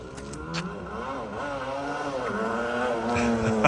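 A 1981 Yamaha RD350LC motorcycle with a rebuilt engine runs nearby, its engine note rising and falling with revs in a steady, buzzing drone that builds louder toward the end.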